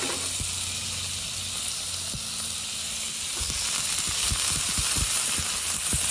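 Peppers and onions fry in oil on a Blackstone griddle with a steady, bright sizzle. Scattered scraping and tapping knocks from a utensil join in, growing busier in the second half.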